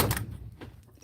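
Drafting-style drawers in a makeup beauty room slide and bump shut with a loud, close wooden rumble and knock at the start, then fade into quieter handling noise.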